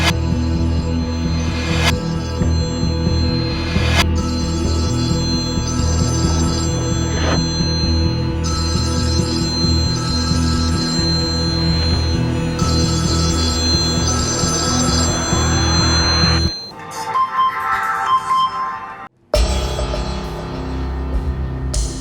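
A telephone ringing in an office-style drama scene: a loud, steady electronic ring with repeating tonal pulses runs for most of the stretch, then cuts off abruptly near the end with a short pause before the sound resumes.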